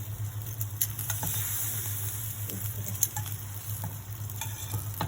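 Roti sandwich frying golden in a pan, a steady soft sizzle throughout with small stir and scrape clicks, close and alone.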